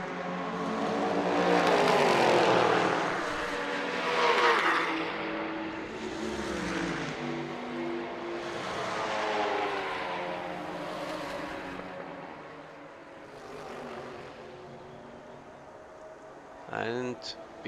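Touring cars, including a Ginetta, race in the Baltic Touring Car Championship at the DeWALT Grand Prix, with engines rising and falling as they pass in waves, heard under continuous commentary.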